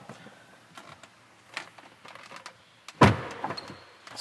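The scissor door of a Lamborghini Aventador works with soft clicks and shuffling, then a loud, close thud-like swing and mechanical movement that settles, with no talking.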